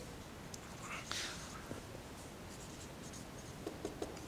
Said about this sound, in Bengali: তো আমরা লিখি, মনে করি গতিশীল বিন্দুর